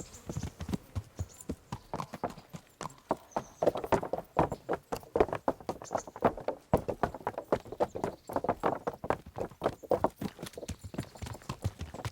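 Horse hooves clip-clopping steadily in the medieval game Kingdom Come Deliverance, a brisk, even walking rhythm heard close and alone for the whole stretch.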